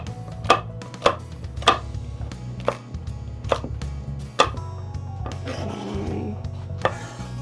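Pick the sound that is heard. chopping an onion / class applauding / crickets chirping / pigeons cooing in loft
chopping an onion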